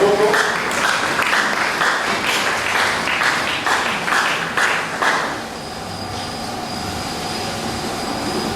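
A church congregation applauds during a worship service, a dense wash of clapping that keeps up for about five seconds and then fades, leaving a quieter hum with a faint steady tone.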